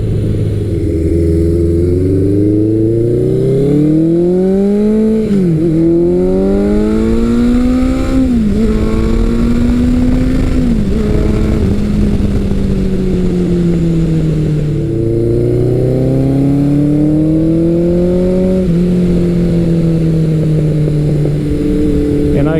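Classic Suzuki superbike such as a GSX-R1100, Katana 1100 or GS1100E riding at speed. A loud, close engine drone swells and dips through repeated gear changes and throttle shifts, with steady rushing wind noise over the whole stretch.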